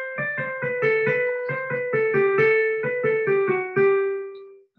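A short melodic pattern of quick, evenly spaced piano notes, played alone and fairly close, with steady rhythm and clear sustained tones.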